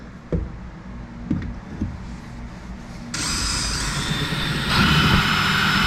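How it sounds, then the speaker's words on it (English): A power drill whirs up during installation of gas cans on a 2026 Can-Am HD11 Defender Limited, after a few clunks, then running steadily and loudly before its pitch rises for the last stretch. "Grab the drill."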